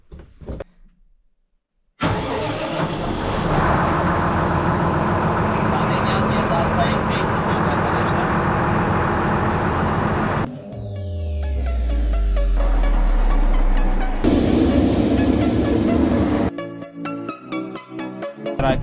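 A farm tractor, readied to haul barley to a seed-cleaning plant, cranks to life after a short quiet moment and settles into a loud, close, steady engine drone, which later shifts abruptly in tone before the engine runs on.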